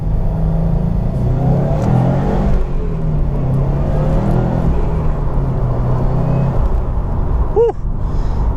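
A 2018 Subaru WRX STI pulls away from first gear, its engine rising in a loud, close revving surge as speed builds, then easing off, with a short squeal near the end.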